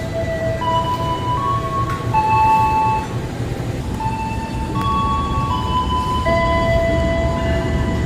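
The Manahan passenger train out of Jogja runs at night with a loud, steady rumble of wheels and carriage. Short melodic tones chime in again and again over the roar, and nobody talks.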